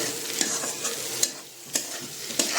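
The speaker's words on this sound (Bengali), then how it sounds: "একটু নাড়াচাড়া দিয়ে নিই।" A spoon stirs fish oil curry seasoned with turmeric and chili powder in a pan, scraping in a few distinct strokes over a soft background sizzle. Nobody speaks.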